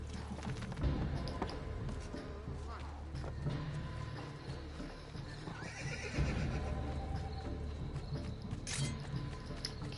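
A horse in the Assassin's Creed 2 Remastered video game neighs and whinnies amid clip-clopping hooves and city bustle, with a voice talking over parts of it.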